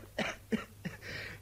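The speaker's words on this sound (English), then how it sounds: "You hear that cough?" Three short, quiet coughs in a row, followed by a faint breathy throat sound, heard alone against a low background hum.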